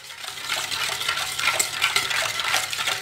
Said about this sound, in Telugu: ఇవన్నీ వేసి చక్కగా బీట్ చేయాలి